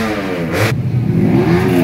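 A championship-winning race motorcycle revving loudly in a paddock at a Superprix round in Mijen, Semarang, its engine pitch sweeping up and down close by with continuous rumble.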